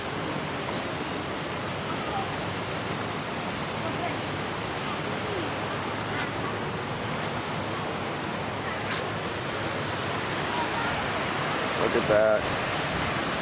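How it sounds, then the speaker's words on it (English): Water churns through the spillway at Hoover Dam in a steady, broad roar like a waterfall, and a voice speaks briefly near the end. "A lot of water being churned through there."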